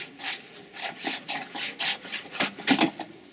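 A plastic tube mounted on the back of a sprayer being unscrewed by hand, giving repeated close scraping, rubbing twists in a steady rhythm, with no voices.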